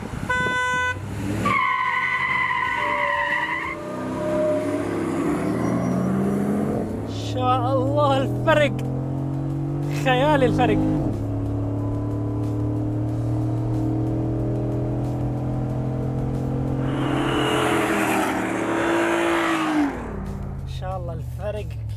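A Jeep Wrangler's 6.4-litre SRT engine revs hard, its pitch climbing in repeated surges as it accelerates, with people talking over the loud, steady motor drone.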